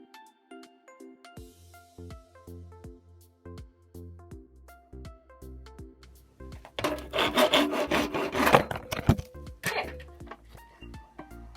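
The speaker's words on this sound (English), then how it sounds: "I've got this old piece of PVC pipe and I've drawn a line around it and I want to cut it" An old PVC pipe is sawn by hand along a drawn line, with scattered knocks and scrapes first, then a burst of rapid rasping strokes midway and a few more later, close up.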